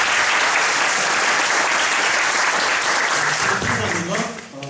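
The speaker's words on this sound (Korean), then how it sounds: "큰 박수로" Loud, dense audience applause for a guest lecturer at a university industry-academia special lecture, steady throughout and thinning slightly at the end as a voice begins to speak.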